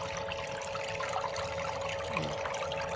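Steady running water flowing through a gold sluice fed at a slow, even rate, a continuous close trickle and wash with no voices.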